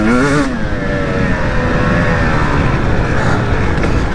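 A 2022 KTM 300 XC two-stroke dirt bike engine revs loud and close on a motocross track, a sustained high buzzing drone with a brief rising burst at the start.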